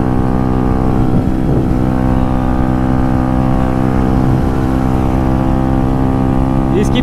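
A modified Kawasaki ZX10R sport bike roars steadily while being ridden, its engine drone loud and constant throughout with harmonic tones shifting slightly, a little wind and faint voices mixed beneath.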